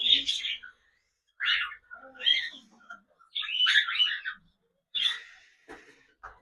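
Pet cockatiels in a home aviary let out shrill, chirpy calls in short repeated bursts separated by brief pauses, close and fairly loud.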